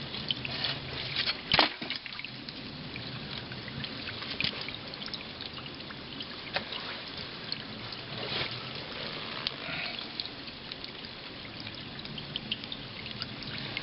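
Water flows out of a pipe into a springbox outdoors, a steady splashing trickle with a few louder splashes and knocks along the way.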